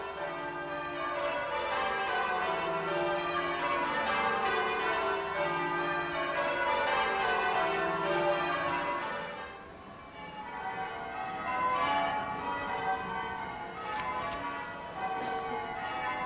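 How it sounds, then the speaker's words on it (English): Church bells of St David's Cathedral in Pembrokeshire ring in overlapping peals, a full resonant cascade of tolling that dips briefly midway and then resumes, heard from a moderate distance. "the bells of St David's there tolling will be heard all along the coast of Pembrokeshire"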